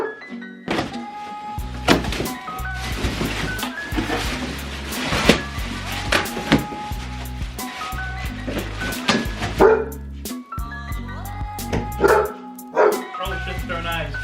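Copper, a dog, barks repeatedly in sharp, loud bursts close by indoors, mixed with thunks and people talking.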